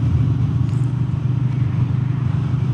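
A Royal Enfield Meteor 350 motorcycle cruising on a country road, its single-cylinder engine a steady, close, low throbbing drone mixed with wind rush, holding an even pace throughout with no voices.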